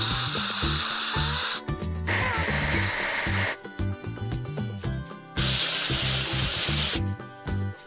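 Bursts of spray from washing a truck in a kids' video game, loud hissing blasts that start and stop over looped cartoon music with plinking game effects, close and steady.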